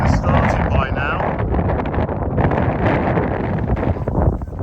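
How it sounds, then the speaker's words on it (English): Wind buffets the microphone on a hillside climb, a constant loud roaring rush with gusty rustling, nearly filling the sound, while a person speaks over it. "As I climb up, it's getting windier and windier"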